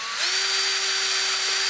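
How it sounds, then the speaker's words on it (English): A power drill spins its bit through a hole in a steady, close, loud whine that holds one even pitch after a quick spin-up, with no voices over it. "you can pretty much drill through anything"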